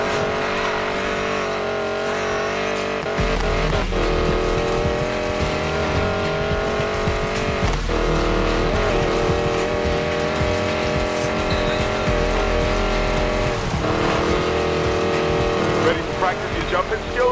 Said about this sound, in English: You're about to race and lift a hypercar loaded with prototype black market tech.